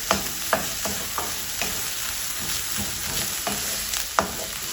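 Ginger garlic paste sizzles steadily in hot oil while a spoon stirs and scrapes the pan now and then, close up, with no voices.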